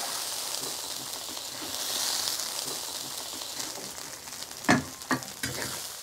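Side ingredients hit a hot wok with red chili oil, dried chilies and Sichuan peppercorns, producing a strong continuous sizzle, with a few sharp utensil knocks near the end.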